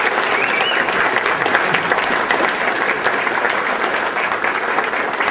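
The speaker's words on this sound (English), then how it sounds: "give her a little applause." An audience at the Trenton State of the City Address applauds an award nominee for the Rotary Service Above Self Award, a steady wash of many hands clapping, loud and sustained with no pause.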